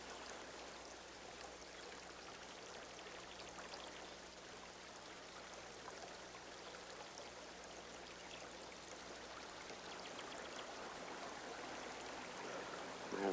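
A brook flows with a soft, steady rushing and trickling of water. The sound stays constant and faint for over thirteen seconds, with no voices.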